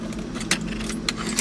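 A heavy bunch of car keys jangles near a project car, with light metallic rattles and a few sharper clinks over a low steady background hum.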